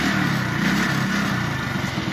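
A TVS XL 100cc motorbike engine runs steadily at close range with a buzzing, even drone and no pauses.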